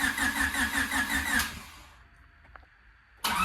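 A car engine turns over and runs roughly with a pulsing, loud rhythm after a battery replacement, then dies away into near silence before a sudden burst of noise returns at the end.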